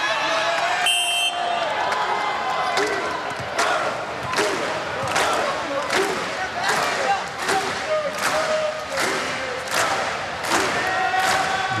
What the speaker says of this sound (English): Now the crowd and the bench clap.